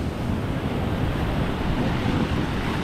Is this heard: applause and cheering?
no